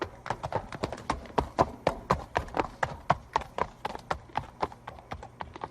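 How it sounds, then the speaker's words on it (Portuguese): Horses pass by on a medieval castle road, a steady clip-clop of hooves in a brisk, even rhythm, clear and close with no voices. "Vocês viram aí a sonoplastia, o som dos cavalos."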